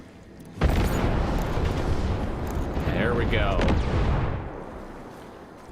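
In Ghost Recon Breakpoint, explosions like fireworks go off: a sudden booming onset becomes a sustained rumbling roar that fades at the end, with someone briefly speaking over it.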